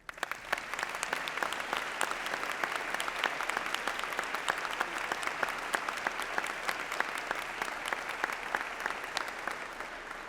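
Steady, moderately distant round of applause from a seated audience at a school head's investiture ceremony, many hands clapping evenly throughout.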